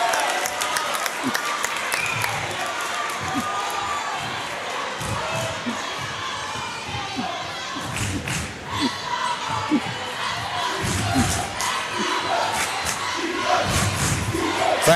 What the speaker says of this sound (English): Now the Windsor crowd is all fired up.